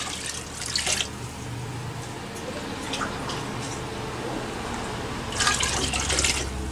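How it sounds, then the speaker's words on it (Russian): About five litres of water go into a large pot of pitted plums while homemade plum wine is being made, a steady running pour with splashy bursts near the start and again toward the end, with no talk. "И литров 5 добавим воды сюда."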